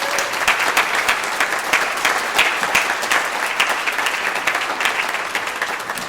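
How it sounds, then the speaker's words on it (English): Sustained audience applause at a church music performance, an even, lively wash of many hands clapping that carries steadily and loudly throughout with no speech over it. "let's give a round of applause to St David's Church"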